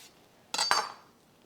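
A knife cuts through a peeled red onion on a board: two quick, close, crisp strokes with sharp clicks of the blade meeting the surface, then quiet.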